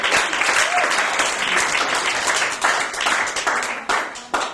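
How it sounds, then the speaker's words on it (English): Audience applause for George Gordon, the host, with a steady roar of many hands clapping close and loud throughout, a few cheers rising within it and slight dips near the end. "give us a big applause for George Gordon"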